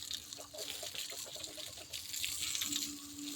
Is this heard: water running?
yes